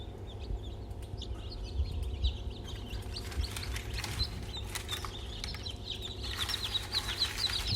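High, thin cheeping from several small chicks in a fully automatic incubator, scattered chirps over the machine's steady low hum.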